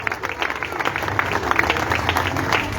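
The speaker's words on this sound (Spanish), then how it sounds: "dale una alabanza de aplauso" A church congregation applauding in praise during a service, a steady wash of many hands clapping at moderate distance, sustained and fairly even, with faint voices mixed in.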